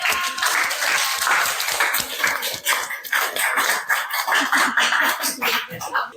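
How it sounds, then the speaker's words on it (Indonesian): A classroom of students gives a short, uneven round of applause, with distinct claps at close range mixed with shuffling and scattered voices. "Kasih tepuk tangan dulu"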